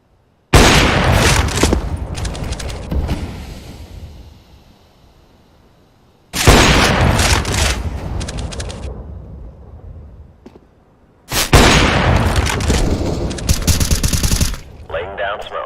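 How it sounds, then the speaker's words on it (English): Smoke grenades in Counter-Strike: Global Offensive, three loud hissing bursts that each decay slowly over several seconds, separated by near silence. "I'm throwing smoke."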